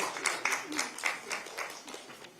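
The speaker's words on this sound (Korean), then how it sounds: "큰 박수 부탁드립니다" Light, scattered clapping from a modest crowd at a South Korean Democratic Party event. Individual claps are audible in an irregular patter, fairly faint, with no voices over it.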